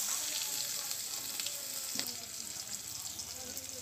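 Chopped onion dropped into hot oil with bay leaf and whole cumin, a dense continuous sizzle with a brief knock partway through, close and steady.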